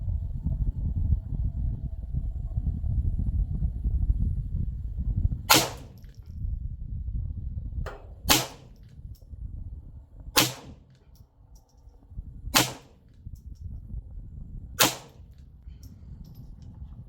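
Five unsuppressed shots from a Ruger 10/22 Charger rifle ring out at spaced intervals of about two to three seconds, each a sharp, fairly loud crack standing over a steady low rumble of wind or background noise.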